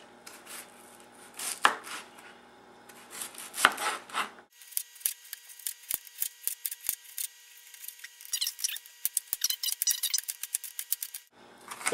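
Knife cutting food into narrow strips along the grain on a board, with rapid, close chopping strokes in uneven bursts between brief pauses.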